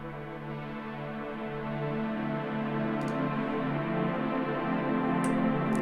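Sustained synth pad drenched in a massive Eventide H9 Black Hole reverb, a dense wash of held tones slowly swelling in volume, alone without any talking.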